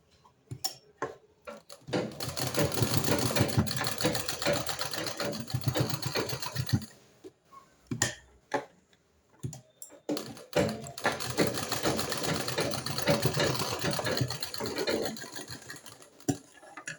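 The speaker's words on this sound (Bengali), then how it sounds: "সেলাই দিচ্ছি" A sewing machine stitches fabric in bursts of rapid mechanical ticking, with several seconds of steady running broken by short pauses and single clicks, close and clear.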